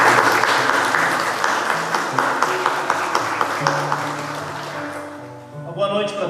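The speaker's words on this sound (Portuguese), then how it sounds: "Uma salva de palmas para as nossas crianças" A church congregation applauds the children, dense clapping that builds and then tapers off, with background music continuing underneath and the sound fading toward the end.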